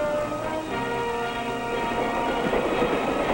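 A passenger train runs steadily on the rails, a continuous dense rumble with faint rhythmic clatter, heard alone.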